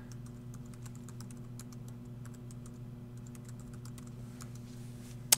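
A password is typed on a computer keyboard, a string of light, quick key clicks in an irregular rhythm over a steady low electrical hum, nearby and alone without talk.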